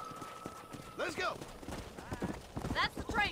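Horses galloping in the Western video game Red Dead Redemption, quick hoof clip-clops under a voice, with a faint tone at the start.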